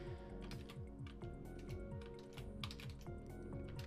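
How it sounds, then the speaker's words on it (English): Computer keyboard keys being pressed repeatedly, Alt with the arrow keys, a fast steady run of quiet clicky taps close to the microphone with no voice over it. "I'm pressing Alt and the arrow keys to kern the type."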